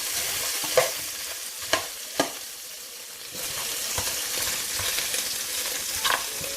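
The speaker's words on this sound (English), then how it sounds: "I'm going to brown the outside of the ribs." Ribs browning in a pan on a stove set to medium give a steady sizzle, broken by a few sharp knocks and scrapes as the meat is moved.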